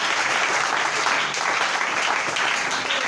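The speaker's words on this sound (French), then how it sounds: "acclame d'abord pour le roi" An audience bursts into dense, sustained applause, loud and continuous throughout, with no voices over it.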